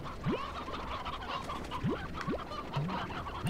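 Chickens in the Slime Rancher video game cluck in short rising calls, several spaced bursts over a busy game soundscape, moderately faint.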